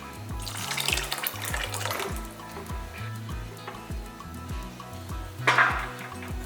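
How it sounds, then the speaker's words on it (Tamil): Water pours steadily into a mixer jar, a splashing trickle with a brief stronger gush near the end, under a repetitive low musical background. "கொஞ்சம் தண்ணி சேர்த்துக்கலாம்"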